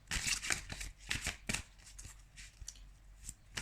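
Playing cards are shuffled and handled close up during a tarot-style card reading, giving a quick series of crisp riffling bursts and soft slaps, heard alone with no talk.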